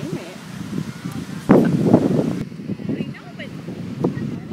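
Wind gusts across the beach in Atlantic City on a cloudless day, a steady rushing buffet against the microphone rising in the middle, with a voice talking over it.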